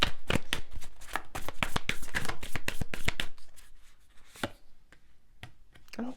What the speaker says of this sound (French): je tire les cartes du tarot